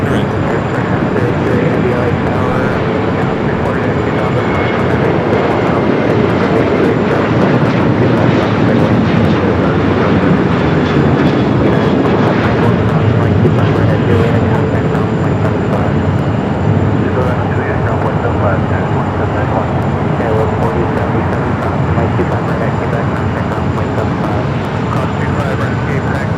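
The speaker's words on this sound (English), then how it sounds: "Flight 38 coming in from Singapore in this A350-900." An Airbus A350-900 arriving from Singapore lands at Los Angeles International Airport, its jet engines producing a loud, continuous roar throughout.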